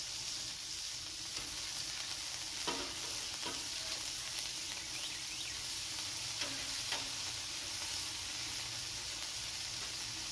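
Smashburgers sizzle steadily in spattering grease on a hot grill, a continuous close frying hiss broken by a few sharp scrapes and pops, with no talking.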